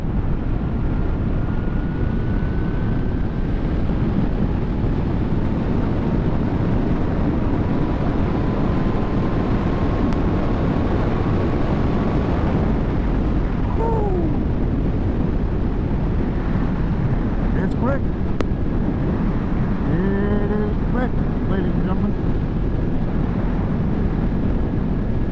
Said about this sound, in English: All I hear is the wind.